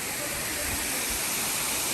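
Water falls steadily at Saleli waterfall in Sattar, a continuous broadband roar and hiss filling the whole clip, with low rumbling underneath.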